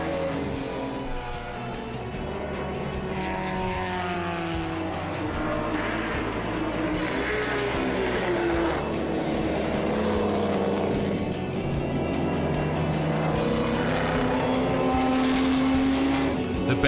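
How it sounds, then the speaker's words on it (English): Classic Ferrari GT race cars, including a 1966 Ferrari 275 GTB/C, race at Spa-Francorchamps with sustained engine roar from several cars whose pitch rises and falls as they pass, fairly loud and continuous throughout. "off the first start it's Vincent Gay in his Ferrari number 55 who gets away from pole"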